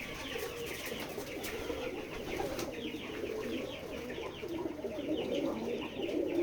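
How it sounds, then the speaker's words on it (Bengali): Pigeons cooing steadily on a pigeon farm in a village in Keshabpur, Jessore, with layered overlapping coos from many birds, some chirps and an occasional wing flutter, continuous and fairly close throughout. "আপনারা দেখতে পাচ্ছেন আমাদের খামারের কবুতরগুলো বেশ চঞ্চল, অনেক চালাক এরা।"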